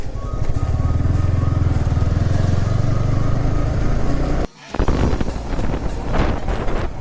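A Yamaha R15 V4 motorcycle riding along a sand-covered road, its engine droning steadily under heavy wind buffeting, with a brief dip before the rushing noise resumes.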